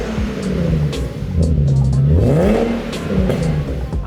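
A Nissan 370Z engine fitted with a K&N induction intake revs up and down repeatedly with a loud, breathy intake roar, close by and with no voices.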